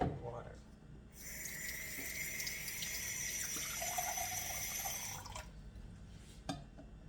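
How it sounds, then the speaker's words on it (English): Cold water runs from a tap for about four seconds while mixing flax prairie bread dough, a steady hissing stream that starts and stops abruptly at close range. "And you are going to add 1/4 cold water."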